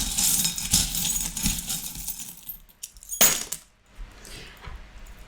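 Divination charms are tossed onto cards with a cluster of small metallic clinks and rattles, then a single sharp clatter and a quieter settling jingle.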